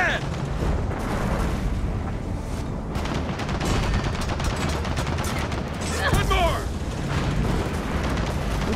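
Rapid gunfire and heavy booms in the video game Gears of War 4, as players fire at bombs during an insane co-op campaign, loud and dense throughout with a sharp burst near the end, a voice shouting over it.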